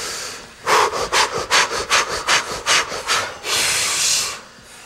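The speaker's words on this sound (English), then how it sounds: "Remember, it's like panting." Fire breath exercise: a rapid run of about ten sharp, rhythmic panting breaths through the mouth, close and loud, ending in one longer forceful exhale.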